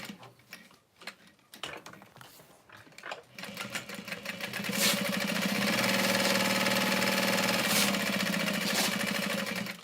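A sewing machine stitches with dark purple thread at a stitch length of 5 using a small workspace foot, starting with a few separate clicks and short bursts, then running fast and steady in a loud, even mechanical whir.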